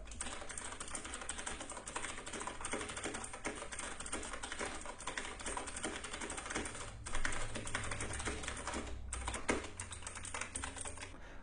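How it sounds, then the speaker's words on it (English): Fast, continuous clacking of a mechanical keyboard, keys struck in rapid irregular bursts, close and clear, with no voices. "here's a typing sample of what it sounds like"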